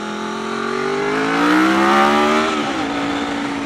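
A car engine on the road revs up with a rising, climbing whine, peaks, then drops as the gear shifts and settles into a steady drone, loud and close.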